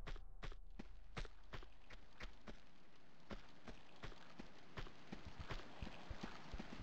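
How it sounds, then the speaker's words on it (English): Footsteps in Tomb Raider 2 arrive as a faint, irregular series of sharp taps and clicks on a hard surface, spread across several seconds under a quiet background. "Ooh, I hear more footsteps."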